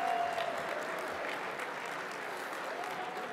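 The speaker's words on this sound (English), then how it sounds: "please stand up so we can give you a round of applause and our thanks" Applause for the Victory Campaign Board at a brunch, a steady crowd clapping in a large room that starts loud and stays fairly even. A faint voice is heard near the start.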